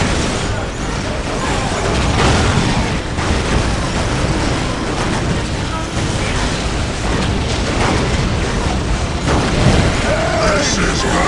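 Bombs burst in a Warhammer strategy battle, with Gorgutz's forces fighting the Sisters of Battle and their Living Saint. The result is a loud, dense barrage of booms and crashes that keeps rolling for about eleven seconds amid chaotic battle noise.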